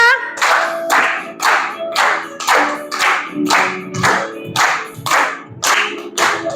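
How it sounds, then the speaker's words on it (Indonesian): A classroom group claps hands together in a steady rhythm at an Indonesian school song activity, about twelve loud, evenly spaced claps in a row. "Tepuk tangan semuanya."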